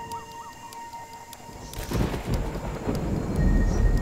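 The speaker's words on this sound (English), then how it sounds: "A storm is brewing." Thunder from a brewing storm in Singapore's jungle rolls in and builds into a loud, deep, sustained rumble, with birdsong and a few faint calls heard before and over it.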